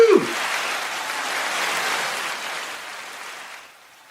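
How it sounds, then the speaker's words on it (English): An applause sound effect on a talk show: a dense wash of clapping that follows a brief vocal whoop at the start and fades out toward the end. "I have an applause thing here. I'm going to add that in."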